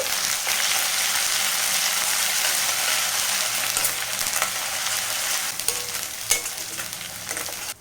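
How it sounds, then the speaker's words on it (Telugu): Ginger garlic paste frying in a pan for chicken fry gives a loud, steady sizzle with stirring scrapes throughout, heard alone without talk. "అల్లం వెల్లుల్లి పేస్ట్ కూడా పచ్చివాసన పోయేంత వరకు అయితే ఫ్రై చేసుకోవాలి"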